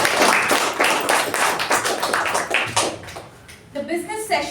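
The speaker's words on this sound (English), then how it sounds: "So let's give ourselves a huge round of applause." Members at a Toastmasters meeting clap in a brisk burst of applause that thins out before a single voice starts talking near the end.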